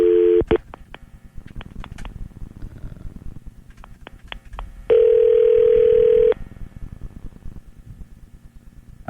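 Telephone line tones during a call on a radio show: a short steady tone, a few quiet key clicks and a low hum, then a longer sustained tone, with no one talking.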